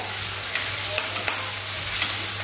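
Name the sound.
spices being sautéed and stirred in pan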